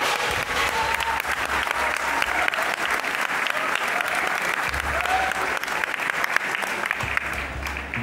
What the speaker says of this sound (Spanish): pido un aplauso para los compañeros de la cuadrilla